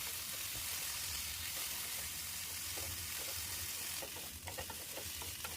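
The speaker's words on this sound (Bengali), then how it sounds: "একটা কড়াইতে তেল দিয়ে তেল গরম হয়ে আসলে টুকরো আমলকিগুলো খানিকটা ভেজে নেবো হালকা করে" Pieces of amla (Indian gooseberry) fry in hot oil in a wok, giving a constant close sizzle, with stirring scrapes and clinks near the end.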